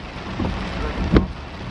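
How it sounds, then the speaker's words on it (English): Rain falls into a car at a drive-through, giving a steady broad hiss with wind noise and a brief louder gust or splash near the end, close and continuous, with no talking. "Rain is getting in here, y'all."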